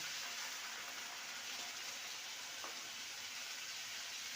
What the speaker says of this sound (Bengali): মশলার সাথে আলুকে ভালো করে কষিয়ে নিয়েছি এবার দিয়ে দেবো পরিমাণ মতন জল